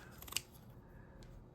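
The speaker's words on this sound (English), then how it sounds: "I'm going to take my scissors and cut it" A pair of scissors snipping through fiberglass drywall tape, a quick cluster of small sharp cuts ending in one crisp snip, faint and close, then quiet.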